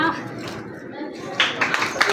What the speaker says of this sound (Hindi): मेरे दोनों चाचा और मेरे दोनों भतीजे गृह प्रवेश के लिए तालियां बजाना भाई सब।